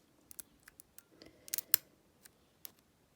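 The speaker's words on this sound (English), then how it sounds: "I've been picking this all week" Lock picking on an Abus 70AL/45 padlock gives faint, close metallic clicks and ticks, scattered irregularly and briefly clustering near the middle, with no talk.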